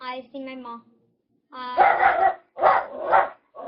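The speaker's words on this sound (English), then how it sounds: "Sorry, that was my dog" A dog barks in a home in a few loud, close bursts, while a person talks before and between the barks.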